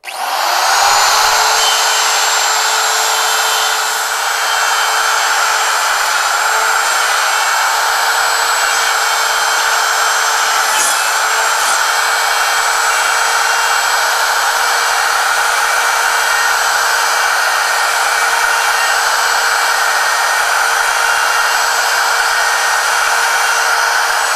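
Router cutting dovetails in 3/4 inch stock on a Peachtree dovetail jig: a loud, steady high-pitched motor whine runs unbroken for over twenty seconds, with only slight shifts in pitch as the bit moves through the wood.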